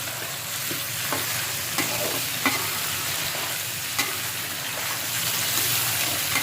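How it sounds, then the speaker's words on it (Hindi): Chicken fries with reddened onions in a pot for biryani, giving a continuous sizzle with several sharp clinks and scrapes as it is stirred. "तो अभी भी ये प्याज हो गया थोड़ा रेड, इसमें हम चिकन डालेंगे।"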